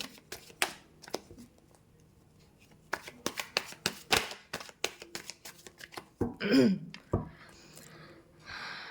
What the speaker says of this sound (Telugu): ఒక్కసారి షఫుల్ చేస్తాను.